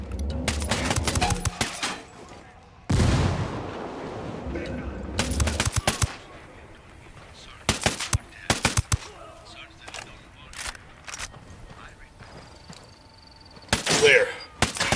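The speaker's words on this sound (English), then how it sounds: "I'm opening fire." Gunfire in Ghost Recon Wildlands video game comes as loud bursts of automatic fire and single shots, close and sharp, separated by quieter gaps, with voices talking in between.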